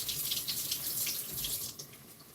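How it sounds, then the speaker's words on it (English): Tap water runs steadily into a kitchen sink while vegetables are rinsed under it, a close, continuous hiss and splash with slight changes as the produce moves through the stream. "Just going to wash them really quick."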